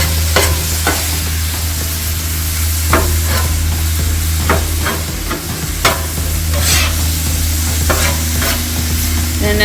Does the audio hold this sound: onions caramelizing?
yes